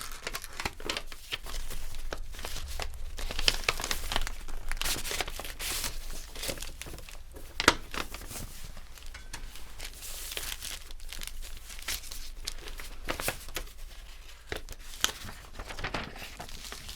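Paper envelope rustled and crinkled in close-up, a steady run of dry crackles and crumpling with a few sharper tears and pops, fairly quiet and continuous with no talking.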